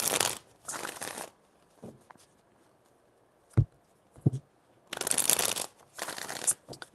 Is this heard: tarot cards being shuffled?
yes